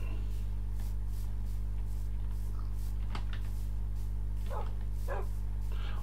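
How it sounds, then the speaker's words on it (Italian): Minecraft wolves bark in short yips, several quick barks spaced over a steady low game hum, fairly near, with a voice talking alongside. "Oh, i lupi!"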